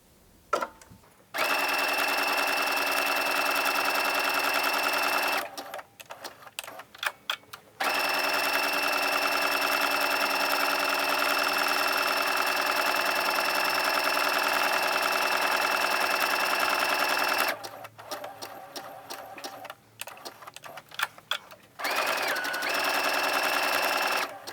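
A sewing machine stitches an appliqué gnome mug rug, with a steady, loud mechanical whir in long runs broken by short pauses, clicks and handling noises between them.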